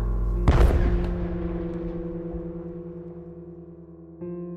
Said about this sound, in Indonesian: Hingga dia dengar ada suara ledakan kenceng banget dari luar rumah.